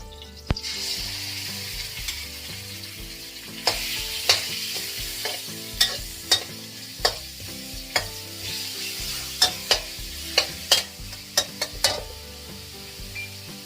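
Minced pork being stir-fried for Thai basil pork, with a steady sizzle in a pan and a run of sharp spatula scrapes and clacks tapping at an irregular rhythm, close and alone.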